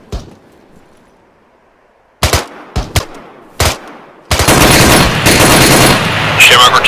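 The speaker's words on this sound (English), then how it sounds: "we're taking heavy fire from the south-southwest" Gunfire in the ArmA 3 military shooter: several sharp, separate shots ring out, then a loud, sustained burst of heavy automatic fire keeps going to the end.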